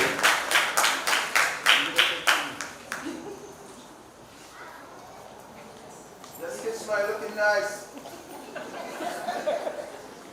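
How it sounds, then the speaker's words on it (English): Brief burst of rhythmic audience clapping at a primary school graduation ceremony, fading after a few seconds, followed by quiet murmuring and a voice beginning to speak. "Please give her a round of applause as she comes to the podium."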